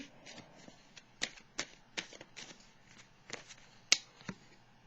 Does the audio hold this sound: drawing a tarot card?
yes